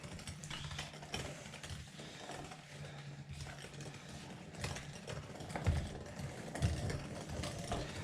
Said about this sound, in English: Go on and empty this grinder out.